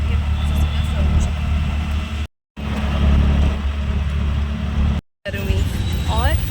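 An auto rickshaw runs through hot, crowded Delhi traffic, its engine droning steadily with road noise all around and a couple of brief dropouts, while people talk over it.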